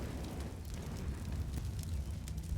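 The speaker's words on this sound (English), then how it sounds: "The Molotov's going to go down as a result." Molotov cocktail fire burning in Counter-Strike on the Inferno map during an esports match, a steady low roaring crackle with faint sharper pops, continuous and fairly loud throughout.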